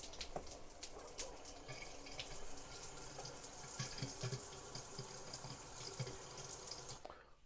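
Hot water runs from a bathroom tap in a Blackpool hotel room, a steady close-up hiss and splash into a sink, faint and continuous until it cuts off at the end.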